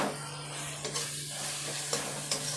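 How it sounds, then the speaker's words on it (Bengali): Spice paste cooking down with tomato in a pan makes a soft, even sizzle, punctuated by a few scraping spatula strokes over a low electrical hum. "টমেটো দেওয়ার পরে আমি 5 মিনিট কষিয়ে নিলাম।"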